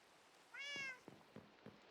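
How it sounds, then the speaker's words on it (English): A cat gives one clear, close meow with a rising and falling tone, followed by a few soft, short sounds, in a quiet room. "Stop meowing."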